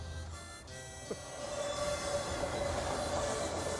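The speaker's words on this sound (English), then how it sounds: "they're going to be held up for a minute and a half while this train goes by" Steady rumble and rattle of a train rolling past a road crossing in Tucson, with a faint metallic squeal ringing through the continuous noise.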